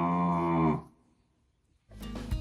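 A cow on a farm lets out a long, loud, close moo, then a short pause before a second low moo begins.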